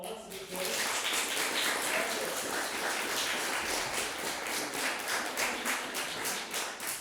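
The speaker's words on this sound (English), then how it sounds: "let's give one more round of applause to the" An audience at a speaker series talk gives a round of applause. The clapping is dense and sustained, moderately loud throughout and fading slightly toward the end.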